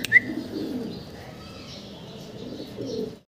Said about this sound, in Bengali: 3 জোড়া গোল্লা কবুতর আছে